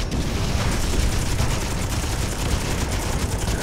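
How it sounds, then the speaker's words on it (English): Rapid, continuous Gatling gun fire in the space combat game Miner Wars 2081, a dense unbroken roar of shots held steady and loud with no pauses. "use my Gatling guns"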